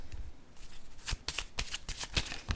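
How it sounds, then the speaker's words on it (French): Playing cards are handled and drawn from a deck, giving a close run of quick, crisp riffling and slapping bursts in an uneven rhythm. "Je vais piger une autre carte."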